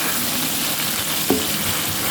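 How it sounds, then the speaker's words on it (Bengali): Large chopped tomatoes fry in a pan with an even, close hiss throughout and one brief knock partway through. "তাই আমি টমেটো কুচিগুলো দিয়ে দিলাম।"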